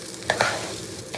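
Rice being fried and stirred in ghee in a pan, a short burst of soft sizzling with a couple of sharp scraping stir strokes and no voices.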